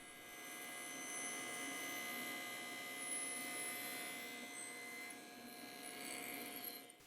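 A saw cutting through wood in a boxmaking job, throwing up a lot of dust, with a steady, continuous rasping whine that runs close and fairly loud for several seconds and carries no talk.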